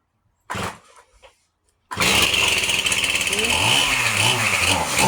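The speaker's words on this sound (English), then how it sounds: "Told y'all he was about to start up chainsaw." A brief voice, then a chainsaw roars to life and keeps running loudly, its engine revving up and down close by.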